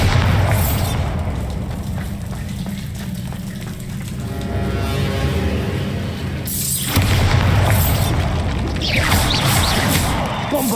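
The Bombarda blasting spell in the game Hogwarts Legacy sets off heavy explosions with crashing debris, a loud booming burst at the opening, another around the middle, then further crashes trailing off over a dense roar.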